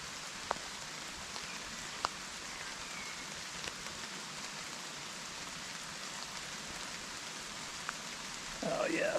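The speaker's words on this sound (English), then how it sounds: "It's going to give you a little bit of the rain sound again." Steady rain patters on the leaves of a conker tree, forming a soft, even hiss with occasional isolated drip ticks, heard alone at moderate level. A faint shuffle or voice sounds at the very end.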